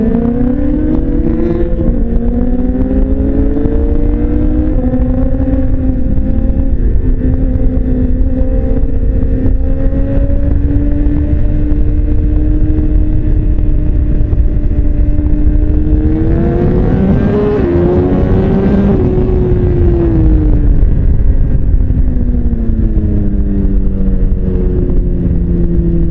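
BMW motorcycle engine droning steadily while riding, loud and close, with smooth rising and falling revs and a sharper throttle surge partway through amid constant wind rush.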